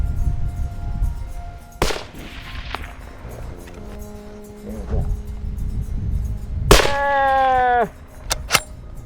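A hunting rifle fires at a moose in Alaska, one sharp broadband crack near the start followed by a few fainter impacts and knocks, with a later bright ringing clang-like burst and little talk.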